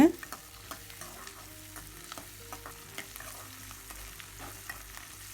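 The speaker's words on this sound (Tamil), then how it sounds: "பூண்டும் வெங்காயம் நல்லா சுருளை வதங்குற வரைக்கும் வறுத்து எடுத்துக்கலாம்" Garlic and onion sauté in a pan for garlic chutney, giving a soft, steady sizzle with occasional light scrapes and clinks from stirring, heard close but quiet with no talk.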